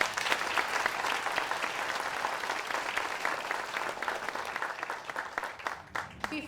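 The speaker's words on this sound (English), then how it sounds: "Please give them a round of applause." A crowd at a Memorial Day tribute in Norwalk claps steadily and loudly for several seconds before the applause thins out near the end.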